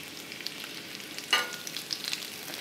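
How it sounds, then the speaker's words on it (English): Breaded pork tenderloin sizzles in oil in a skillet, a soft steady frying hiss with a brief louder crackle partway through and no voices. "The oil is already in it, so now all we have to do is cook it up."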